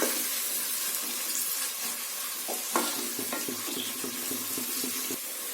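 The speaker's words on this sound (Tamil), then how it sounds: "இப்போ இந்த வெங்காயத்தை நல்லா கோல்டன் ப்ரௌன் ஆகிற அளவுக்கு வதக்கிடலாம்." Onions sautéing in a pan for egg biryani, a steady sizzling hiss with scraping stirring strokes and a few clinks of the spoon against the pan.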